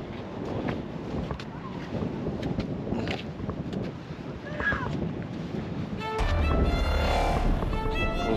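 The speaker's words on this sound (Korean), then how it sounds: "바람이 아주 세네." Strong wind sweeps across the hilltop of an ecological park in Gokseong, South Korea, buffeting the microphone with continuous loud rumbling gusts that grow heavier and more distorted toward the end.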